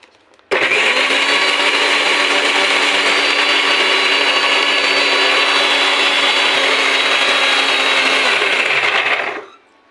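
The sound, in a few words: mixer grinder blending soaked sago with water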